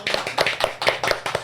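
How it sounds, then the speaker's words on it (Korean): A few podcast hosts clap together in a studio, about six sharp, close hand claps in a quick steady rhythm, heard alone without talk. "박수 한번 칠까요?"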